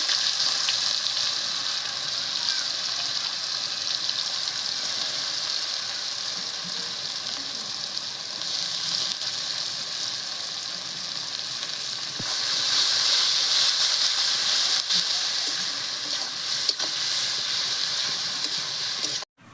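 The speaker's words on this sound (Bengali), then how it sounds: "দেখেন পেঁয়াজের পুরো ব্রেস্তা বানাইনি মানে একটু কম ভাজি নিছি" Onions fry in a pan, lightly browned rather than fully crisped. A steady close sizzle runs for about twenty seconds, swelling a little louder later before cutting off abruptly.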